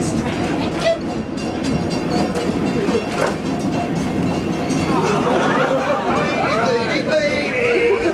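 A train runs on rails with a steady, continuous rumble and rattle throughout, while people talk nearby over the noise.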